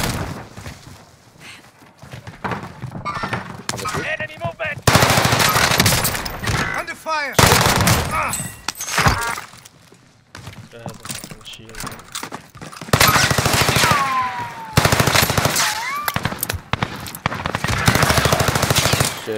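Automatic gunfire from a rooftop in Warzone on the Caldera map rattles in repeated loud, rapid bursts with short pauses between them, while voices talk over the shooting.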